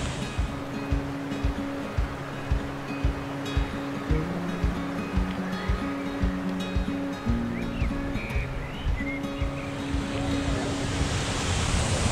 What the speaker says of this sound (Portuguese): Olha essa cachoeira!